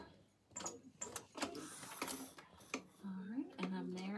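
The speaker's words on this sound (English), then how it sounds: "I'm gonna make sure that I backstitch. I really wanna secure that seam right there" A sewing machine backstitches a seam on a drawstring backpack, with quick mechanical stitching bursts running under a person talking close by.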